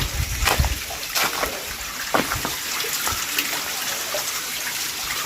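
A shallow stream low on water after little rain trickles and splashes gently near a wild resort, a soft steady flow with small irregular splatters close by.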